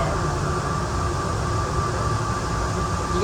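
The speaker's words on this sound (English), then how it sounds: "This train is stopping." An Atlanta airport plane train runs as a steady, loud rumble with a broad rushing roar and a faint high whine, with no clear pauses while it comes to a stop.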